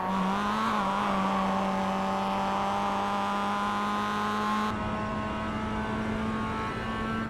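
Mazda MX-5 race car in iRacing accelerating down a straight at Oschersleben, a loud continuous engine note rising in pitch, with a brief upshift early and another change before cutting off.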